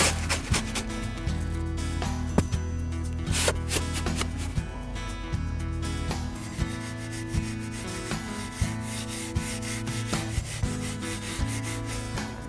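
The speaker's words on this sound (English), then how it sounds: "what every brickie would do is mix the sand and cement dry" Dry sand and cement being mixed for a retaining wall footing, a continuous gritty scraping and rubbing with repeated short strokes, close and steady with no talk.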